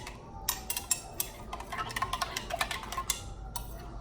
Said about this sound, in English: I'm just slowly stirring it in so my milk can dissolve.